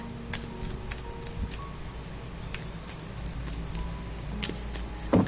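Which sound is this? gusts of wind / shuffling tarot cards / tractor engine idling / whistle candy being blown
shuffling tarot cards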